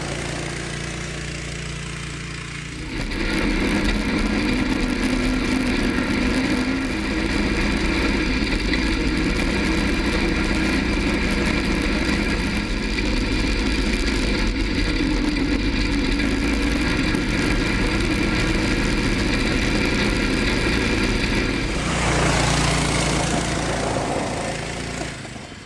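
A full-suspension go-kart engine starts up after a quiet moment and runs steadily and loudly at close range for about twenty seconds, a rough idle with some revving, then drops away near the end.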